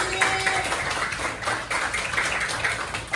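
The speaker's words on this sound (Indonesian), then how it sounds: "Tepuk tangan" Classroom applause for a student group, a brief burst of clapping from a room of pupils, fairly dense and steady across a few seconds, with a faint tone at the start and no speech over it.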